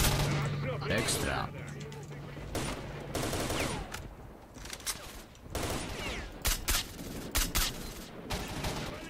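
Video game gunfire in S.T.A.L.K.E.R.: Shadow of Chernobyl, in Pripyat, crackles in rapid bursts and scattered single shots, loud and close, while a voice speaks briefly.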